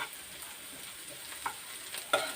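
Sliced bitter gourd fries uncovered over high heat in a pan, giving a steady close hiss and crackle with a few sharper spatula scrapes as it is stirred, no voices.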